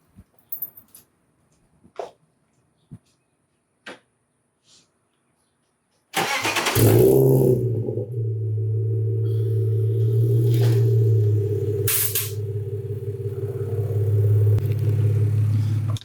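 On a BMW E46, an air compressor kicks on abruptly after a few light clicks and runs with a steady, close hum and hiss as the air suspension struts fill.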